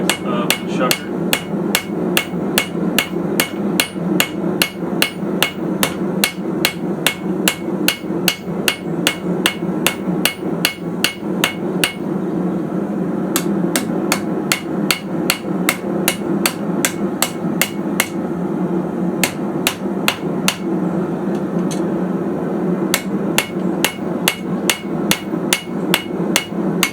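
A steel railroad spike is hand-forged on an anvil into an oyster shucker, the hammer shaping the tooth in a steady run of sharp, evenly spaced ringing blows that continue for the whole stretch, with one short pause partway through.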